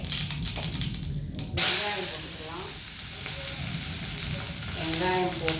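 Mustard seeds hitting hot oil in a kadai, a steady loud sizzle with crackling spurts and a sharp burst of hiss partway through, with brief talking at moments.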